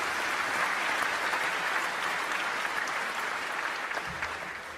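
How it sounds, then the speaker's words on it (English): A large audience claps throughout Shaquille O'Neal's Hall of Fame induction speech, a thick sustained wash of applause that slowly fades slightly near the end, with no clear talking. "Give yourself a round of applause."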